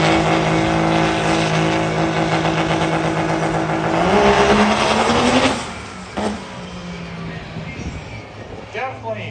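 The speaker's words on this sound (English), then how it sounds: "Definitely broke the tires loose." Diesel trucks on slicks roar down a drag strip at a diesel day event in Alberta, a loud, rising engine howl close by that cuts off abruptly and fades into distant rumble, with people talking over it.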